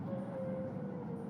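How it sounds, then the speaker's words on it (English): A fast-moving train in Japan, heard as a steady low rumble with a constant whining tone running throughout, continuous and fairly loud, with no talking over it. "The train is going very fast."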